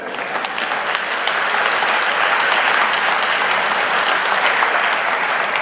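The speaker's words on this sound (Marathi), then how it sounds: "या टाळ्या माननीय देवेंद्र फडणवीस साहेबांच्यासाठी आहेत" A large crowd at a political rally in Solapur, with Chief Minister Devendra Fadnavis present, claps in a loud, continuous, even roar of applause lasting throughout.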